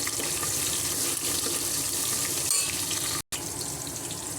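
Onion and bay leaf fry in hot oil for a vegetable kichdi, giving a steady, close, dense sizzle that holds constant throughout apart from a brief cut near the end.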